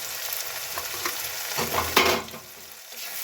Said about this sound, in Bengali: এবার আমি এখন কষাতে থাকবো, ভালো করে কষিয়ে নেব